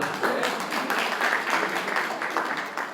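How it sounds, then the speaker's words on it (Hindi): Audience at a film press meet claps in a brief, moderately loud burst of scattered, uneven handclaps lasting a few seconds with no speech over it. "एक बार जोर से तालियां तो बजाओ यार"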